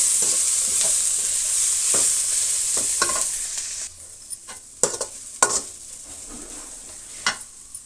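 Egg omelette gobi with grated carrot sizzles in a pan while being stirred, a steady frying hiss broken by several sharp scrapes and clinks of the spoon against the pan, quieter in the second half.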